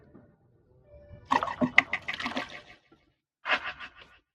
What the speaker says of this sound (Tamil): இப்போ உயிர் தண்ணி கொடுக்கலாம்